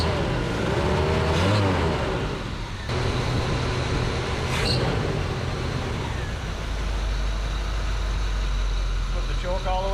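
A 1975 Chevrolet C20 Scottsdale squarebody pickup runs loud and close, its engine surging in a couple of revs over a steady rumble, with a belt squeal audible at times and people talking over it.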